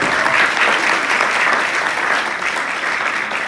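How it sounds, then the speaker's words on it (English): An audience at the RIMAN Singapore pre-launch event claps, and the dense, steady applause fills the room for the full few seconds. "Give yourself a big round of applause."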